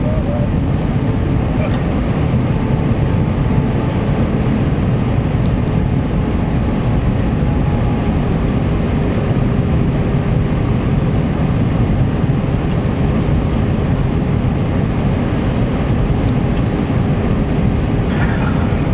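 Steady low engine rumble and broadband cabin noise, constant and unbroken throughout, with no distinct rises or peaks.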